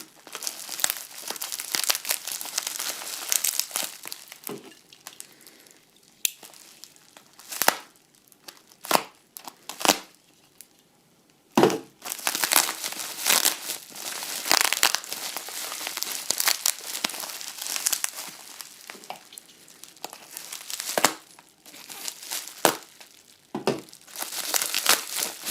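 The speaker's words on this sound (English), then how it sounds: "Let's see if we can get some of this tape off." Packing tape peels and crinkles off the cardboard box of an Amiga joystick peripheral in repeated sharp tearing and crumpling bursts, close and loud, with short pauses between pulls.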